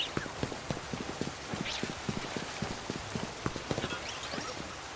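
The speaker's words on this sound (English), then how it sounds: "how much I hated the fact that it was raining in the game" Rain falling in the video game Pokémon Legends Z-A, a steady patter with sharp clip-clop-like taps over a constant wash, faint and moderately distant.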